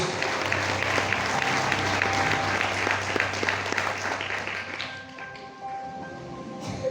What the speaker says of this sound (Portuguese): Dá um aplauso bem forte ao Senhor dos Senhores